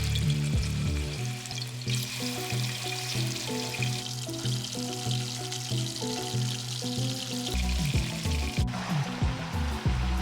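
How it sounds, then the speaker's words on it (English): Pork pieces frying in hot vegetable oil inside a Dutch pot for Jamaican brown stew, a steady close sizzle throughout with music playing over it and a brief louder crackle near the end. "I am using my famous Dutch pot and this is what I'm going to use to stew the pork in."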